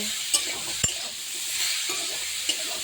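Mixed vegetables, including pumpkin, flat beans, eggplant, papaya and potato, stirred in a pan under a steady soft sizzle, with a few sharp scrapes and clinks of the utensil against the pan.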